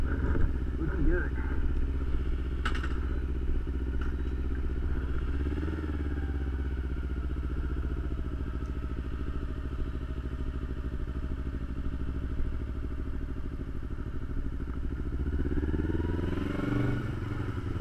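Motorcycle engine running steadily up close while the bike is moved and parked, a continuous low rumble with small clatters and a rise near the end, with speech over it.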